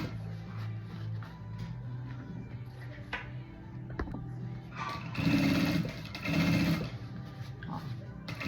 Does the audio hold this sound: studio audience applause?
no